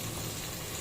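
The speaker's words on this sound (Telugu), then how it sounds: "నూనెలో ఉడకాలి మెత్తగా గోంగూర." Gongura leaves cooking in oil in a pan, a dense continuous sizzle heard up close and alone for a brief moment.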